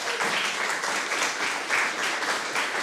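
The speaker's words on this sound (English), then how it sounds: "how about a really heartfelt round of applause for all of our filmmakers?" Audience at a Raindance Film Festival programme announcement applauding filmmakers, dense steady clapping from many hands that carries on throughout without a break.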